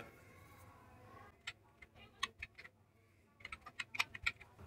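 Keys on a computer keyboard are tapped in quick bursts while an Aadhaar card number is entered, with a lull before the clicks resume in a faster cluster. The clicking is close and clear over a low room hum, with no talking.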